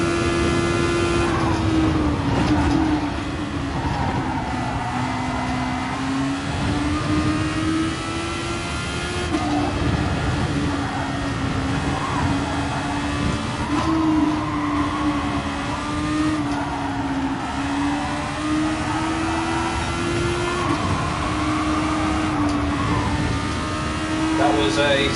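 A Formula open-wheel race car engine in GT Sport whines at high pitch, its tone sweeping up and down through gear changes and corners, with someone talking over it throughout.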